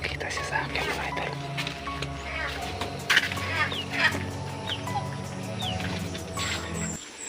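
Backyard chickens cluck and squawk in irregular bursts at close range while someone talks over them steadily throughout.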